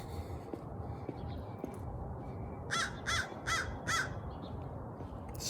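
A crow caws four times in a quick, evenly spaced series, close and fairly loud, over a low outdoor background hum.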